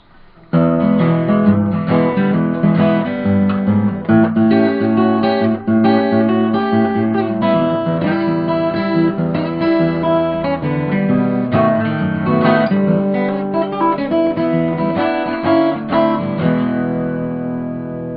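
Texas fingerstyle blues on acoustic guitar plays steadily, a thumbed bass line thumping under syncopated fingered melody notes, clear and close with no voices.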